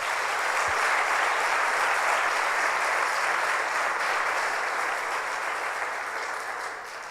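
Sustained audience applause for Jesus Christ at a church gathering, a steady dense wash of many hands clapping at full strength throughout, easing slightly toward the end.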